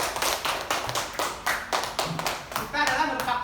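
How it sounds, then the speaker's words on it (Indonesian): A classroom of pupils claps in a quick, uneven patter of many hands, loud and nearby. Voices rise briefly near the end. "tepuk tangan"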